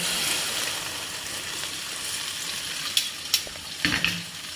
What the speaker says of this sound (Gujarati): અજમો નાખીને વઘાર કરી દીધો છે।